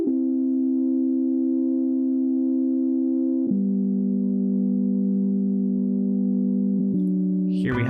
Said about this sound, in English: And here we can hear the synth chords under everything.